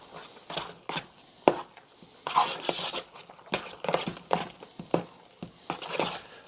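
Cornbread dressing seasoned with pepper and salt is stirred in a bowl, giving a run of soft, irregular scraping and clattering strokes close by, some sharper knocks against the bowl among them.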